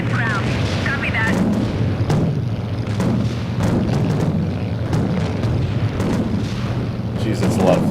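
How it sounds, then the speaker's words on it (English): Anti-aircraft flak bursts in the Vietnam-era air combat game Strike Fighters 2: Vietnam, a loud rumbling roar of repeated muffled booms over a steady drone, with brief radio voices in places. "Jeez, that's a lot of flak."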